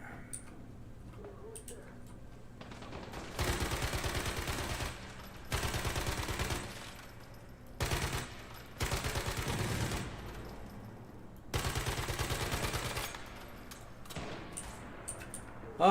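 Bursts of rapid automatic gunfire in the survival shooter Once Human, sniper enemies among the shooters, in several rattling volleys of one to two seconds separated by quieter gaps, fairly close and loud.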